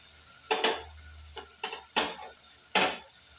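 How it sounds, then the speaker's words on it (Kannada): Chopped tomato hits a hot frying pan while cooking a North Karnataka-style madakikalu palya, sizzling under several sharp scraping stirs of a spoon against metal, close and crisp, spaced a second or so apart. "ಈಗ ಒಂದು ಟಮಾಟೆ ಹಣ್ಣು ಹೆಚ್ಚಿಟ್ಕೊಂಡಿದ್ದೆ, ಅದನ್ನ ಹಾಕ್ತೀನಿ"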